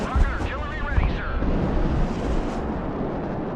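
Rocket artillery fires in the war game Broken Arrow, a dense roaring barrage of booms that rumbles on without a break, and a voice speaks over the start of it.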